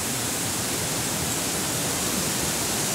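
A waterfall at Seribu Bidadari roars at night as a steady, dense, close wash of broadband noise, unchanging and loud for the whole stretch with no voices over it.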